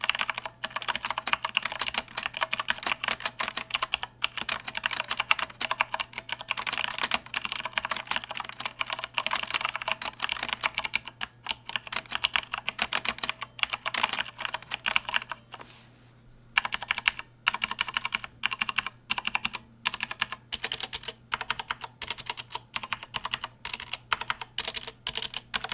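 Typing on a Corsair K95 RGB Platinum XT mechanical gaming keyboard with brown switches, a dense, steady clatter of keystrokes up close that pauses briefly midway, over a faint low hum, with no voices.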